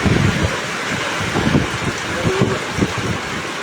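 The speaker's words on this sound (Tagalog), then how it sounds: "Malakas pa ang ulan." Heavy typhoon rain from Typhoon Kristine pours down steadily with gusting wind, a dense, continuous wash of noise with low rumbling surges and no break throughout.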